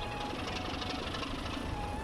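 Class 33 diesel locomotive idling in Transport Fever 2, a steady, even engine drone with a faint knocking pulse and a thin whine on top, continuous throughout.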